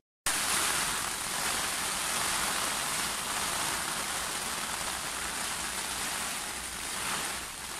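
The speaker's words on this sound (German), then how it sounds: "Mal ein richtig heftiger Schauer jetzt." A heavy rain shower pours down at night during eel fishing, a dense, steady hiss of rain that starts abruptly and holds loud and unbroken throughout.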